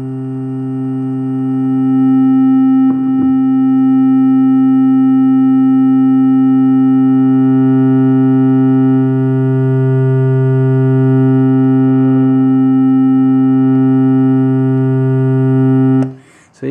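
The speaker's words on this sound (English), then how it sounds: "let me select the organ sound and play a C here" A circuit-bent Yamaha PS-3 keyboard holds a single steady organ C, a loud buzzy sustained tone with strong harmonics lasting about sixteen seconds, broken by a brief click near the start before cutting off at the end.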